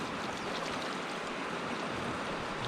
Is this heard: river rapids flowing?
yes